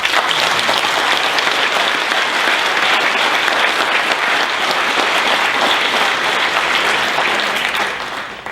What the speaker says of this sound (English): All right, let's say a round of applause for these guys.